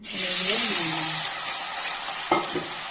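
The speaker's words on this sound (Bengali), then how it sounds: "পনিরটা ভেজে নেব একটু লবণ আর একটু হলুদ মাখিয়ে, এটাকে ভেজে নেব।" Paneer cubes coated in salt and turmeric fry loudly in hot oil with a constant close sizzle. A brief clink is heard near the end.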